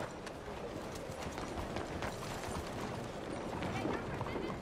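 Horse hooves clip-clop at a steady walking pace in the video game Red Dead Redemption 2, moderately close beneath a continuous bed of ambient game noise, with faint voices mixed in.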